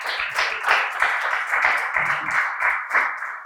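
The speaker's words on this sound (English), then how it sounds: "Round of applause for her." An audience claps for speaker Fati Abubakar after her talk, a short run of uneven, rhythmic hand claps that swell and dip in clusters for a few seconds without any talking.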